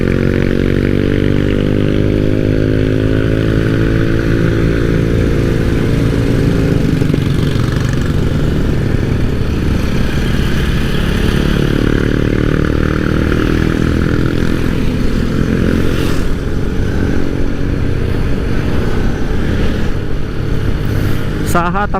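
Yamaha PG-1 small motorcycle engine running steadily, a loud close droning putter that holds throughout with a slight pitch shift, under continuous talk.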